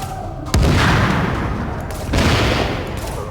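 In Tom Clancy's The Division, a firecracker blast erupts as a heavy boom, followed by a second burst amid ongoing combat noise.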